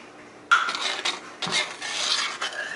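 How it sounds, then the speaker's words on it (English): Sugar and 2/3 cup of milk being stirred in a pot for tiramisu cream, giving a close, steady scraping and swishing of a utensil against the pot in two bursts, with no talking. "And basically you're just mixing it around"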